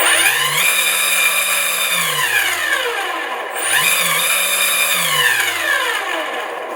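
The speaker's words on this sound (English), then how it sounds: "this is louder than I think any electric motor I've had in the past" A model aircraft's electric motor runs loud and piercing inside its fuselage, whining steadily as its pitch climbs, falls away, then rises and drops again in two revving sweeps, close up with no talking.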